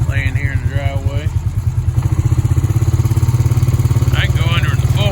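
A four-wheeler ATV engine chugs nearby with a fast, even putter that runs the whole time, while a person talks over it at the start and again near the end.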